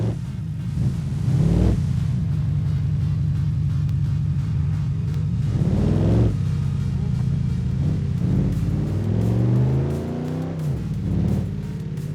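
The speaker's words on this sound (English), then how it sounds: "there's the Roamer. Basically like the rear engine 370Z, which actually, it sounds pretty good." Rear-engine Roamer car in the BeamNG driving game, a loud, close engine droning steadily and rising in pitch through several revving pulls with gear changes, a voice briefly audible beneath it.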